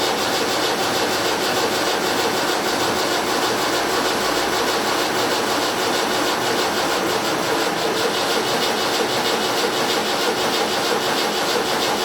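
A Land Rover Series 3 engine tries to start: a loud, steady mechanical churn and rattle runs without a break for the whole stretch, close and dense, with no voices.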